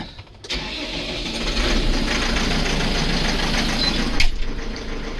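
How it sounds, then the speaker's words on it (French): A 105-horsepower Farmall tractor engine, the smallest on a dairy farm, starts and settles into a steady, loud mid-pitched running rumble on a cold morning, with a brief knock near the end and no talking. "le Farmal c'est le plus petit tracteur de l'exploit. Il fait 105 chevaux."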